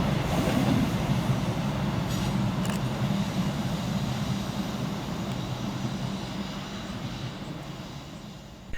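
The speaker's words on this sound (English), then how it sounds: "Whilst passing through on the high level is 156512 and 156434, working 2J07 for Scotrail from East Kilbride through to Glasgow Central." Two coupled Scotrail Class 156 diesel units pass through a station, a steady rumbling roar with wheel and engine noise that gradually fades as they move away, with no speech.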